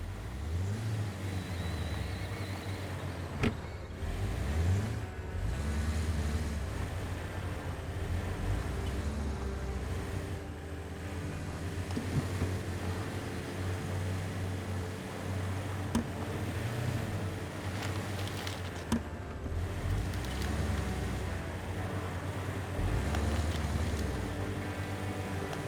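Steady engine drone of the Scout truck in Expeditions: A MudRunner Game, an off-road driving game set in Arizona, rumbling continuously with mild revving swells and occasional knocks, loud and close throughout.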